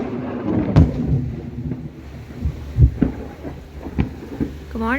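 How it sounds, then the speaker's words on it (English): Thunder rumbles over a farm during a storm after lightning strikes a tree, with several low booming cracks and rolling rumbles at irregular intervals over steady wind and rain noise, fairly close and loud. "I do have a little clip of that lightning hitting the tree"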